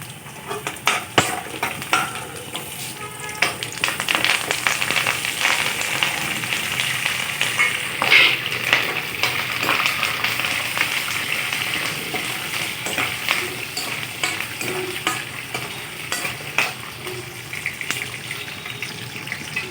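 Chana dal, urad dal, dry chillies and cumin crackle in hot oil for a tempering, a steady close sizzle with scattered pops and light stirring scrapes throughout.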